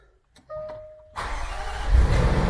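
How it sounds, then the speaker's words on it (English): A Range Rover Sport L494 is started: a chime and a short whine come first, then the engine cranks and catches, settling into a loud, close idle with a slight rise in revs. "what we're going to do is we are going to start the car."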